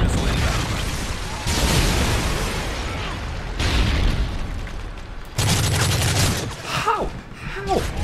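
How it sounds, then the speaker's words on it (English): Predator missile explosions in Call of Duty: Modern Warfare 3, loud booming blasts and bursts of gunfire in quick succession during a multiplayer match, with a player's voice over the top. "Friendly predator missile"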